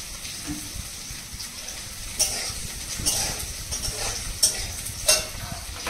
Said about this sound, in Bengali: এই যে ভেন্ডি আলু ভাজা করছি, প্রায় হয়ে আসে।